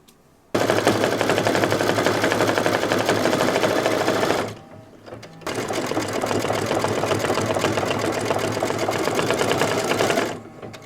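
An embroidery machine stitches the orange beak and feet on a Halloween owl placemat block, running in a loud, rapid, steady buzz that stops briefly partway through before resuming and cutting off near the end.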